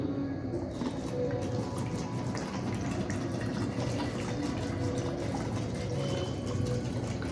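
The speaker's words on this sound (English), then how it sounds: "Now we will pour water on this bottle." Water pours steadily into a bottle, a continuous splashing gush with a faint rising fill, close up and without talk.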